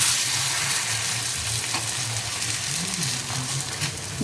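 Patisapta batter sizzles on an oiled tawa, a steady close frying hiss with faint bubbling and occasional light scraping, no talking.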